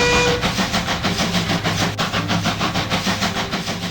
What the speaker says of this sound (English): the manager locked the booking office and boarded the guard's van and blew the whistle. The old engine crept over the point and began pounding up the cutting.